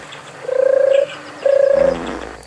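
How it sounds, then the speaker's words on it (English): A turtle dove calls with two purring, rattling coos, each about half a second long and separated by a short pause, close and clear over a quiet background. "First up, have a listen to the turtle dove."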